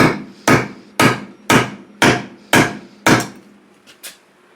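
A hammer drives a wooden wedge into a tool handle with six loud, evenly spaced blows, then two much fainter taps, with no talking.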